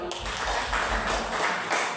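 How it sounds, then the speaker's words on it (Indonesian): An audience at a school teacher training session applauds in a short, even patter of clapping that fades at the end, with some room reverberation. "tepuk tangan kita semua"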